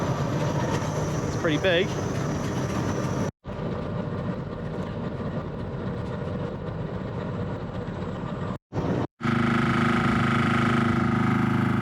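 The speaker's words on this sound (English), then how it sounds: "Anyway, we're at the locomotive." Diesel train locomotive idling at a station, a steady low rumble with clattering under a brief spoken remark, cutting out briefly twice before resuming louder.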